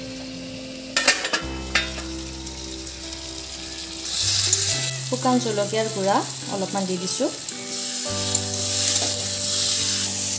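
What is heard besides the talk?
frying and stirring fish with spices in pan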